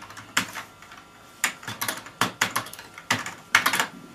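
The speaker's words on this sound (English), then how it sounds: "The keyboard is not doing anything. I'm pressing the arrows." Arrow keys and other keys on a computer keyboard are pressed in uneven bursts of sharp, close clicks, some rapid and some spaced apart, with no talking.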